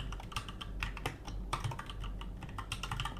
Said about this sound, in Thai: สามารถพิมพ์ได้ตามปกตินะครับผมใช้คีย์บอร์ดทั่วๆไปนะครับ